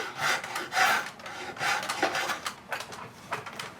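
Hand plane shaving wood while fitting a door in carpentry work, a run of close rasping strokes in uneven rhythm, fairly quiet with no talk.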